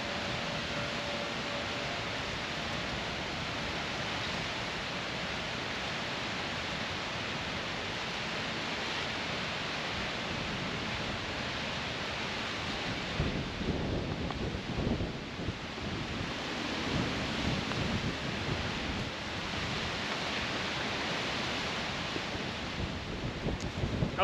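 Strong wind sweeps across an open golf course and buffets the microphone as a constant broadband roar, with gusts swelling louder toward the end.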